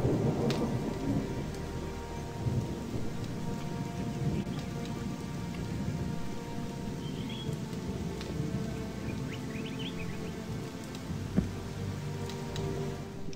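Steady rain falls in the Gothic 2 game world, a dense continuous hiss with low thunder rumbling underneath. Occasional small chirps sit above it, and no one speaks.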